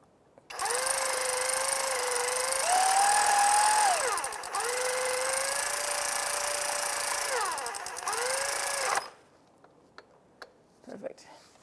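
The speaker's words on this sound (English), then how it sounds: "I think I'm just going to use my air ratchet, or my electric ratchet, shall I say." An electric ratchet snugs a knock sensor bolt on a 2005-2010 Chevrolet Cobalt, whirring loudly up close in three continuous bursts whose pitch dips and rises as the bolt tightens, then stops, leaving faint clicks.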